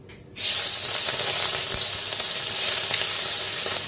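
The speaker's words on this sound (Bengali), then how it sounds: "কড়াইটা বসিয়ে আর তেল দিয়ে দিয়েছি, তেলটা গরম হয়ে গেছে। তো এক এক করে মাছগুলো ছেড়ে দিই।" Puti fish hiss and sizzle loudly in hot oil in a wok, a dense steady frying roar that starts abruptly after a brief quiet moment and continues alone with faint crackles.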